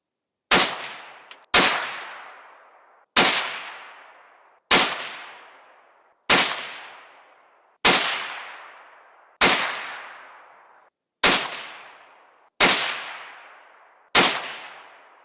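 A .22 WMR rifle fires CCI 40-grain jacketed hollow points, ten sharp, loud shots spaced about a second and a half apart. Each crack rings out and fades in a short echoing tail outdoors.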